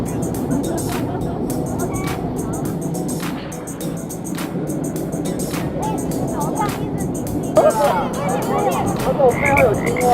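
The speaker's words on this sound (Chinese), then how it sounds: "我背后有青蛙" Frogs croak steadily beside a mountain stream during the plum-rain season, a dense rhythmic chorus under a constant rush of flowing water, with a few voices talking near the end.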